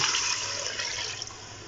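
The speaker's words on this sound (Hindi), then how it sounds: "ये 1 लीटर पानी है, बल्कि 1 लीटर से ज़्यादा ही है। ये हम इसमें ऐड कर देंगे।" Over a litre of water pours steadily into a cooking pot while haleem is being made, a continuous close splashing rush with no speech.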